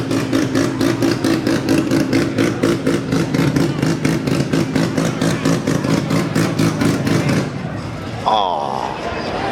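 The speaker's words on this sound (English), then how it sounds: "Listen to that rotary." Loud rotary-engined modified car leaving a car show, its engine chattering in rapid rhythmic pulses for most of the span before cutting off abruptly, followed by quieter background noise with a brief voice.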